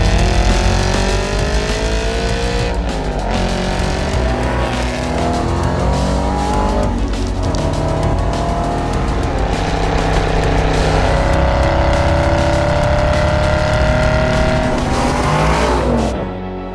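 A 2016 Aston Martin Vantage GT8 driving hard, its engine loud and close as it revs up and down through gear changes, with tire noise and no talk.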